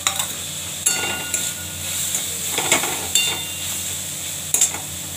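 Eggplant slices fry in an oiled pan with a steady, close sizzle, broken by sharp clinks and scrapes of a utensil stirring at irregular intervals.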